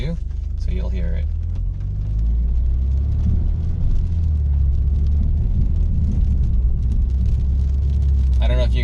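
A BMW 328i fitted with a BMW 335i exhaust conversion drones with a low, steady engine rumble heard from inside the cabin, and a person talks briefly near the start and again at the end.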